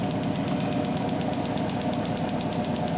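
A motor driving a generator hums and rattles steadily with a knocking vibration, close and fairly loud, holding an even running sound without voices.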